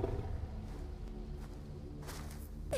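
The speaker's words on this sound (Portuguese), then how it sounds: "É um urso." A bear in The Quarry video game gives a low, rumbling growl that rolls on through the whole stretch against a steady game soundscape, with a sharper burst close to the end.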